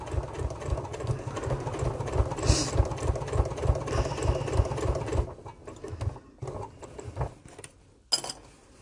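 A sewing machine stitches binding onto a bag at a moderate pace, its rapid mechanical chatter running steadily and close for about five seconds, then stopping, followed by a few quieter clicks and handling sounds.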